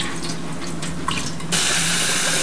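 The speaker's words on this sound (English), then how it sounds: "We have to wash the rice" Water pours from a tap while rice is washed, first a softer sloshing trickle, then a sudden loud, steady rush of running water over the last second, close and without talk.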